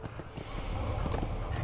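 A horse gallops in Darksiders II, with a quick, close run of hoof clip-clops over a low rumble that swells slightly louder over a short moment.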